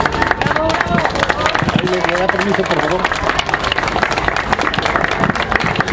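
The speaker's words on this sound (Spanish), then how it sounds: "Recibámoslo con un aplauso" An audience claps together for a speaker being welcomed at a conference talk. The dense, steady applause fills the whole stretch while a voice speaks briefly over it.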